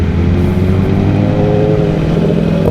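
A Ducati V4S or BMW S1000RR sport motorcycle idles close by, a loud, steady, rumbling engine note with a continuous throb and no voices over it.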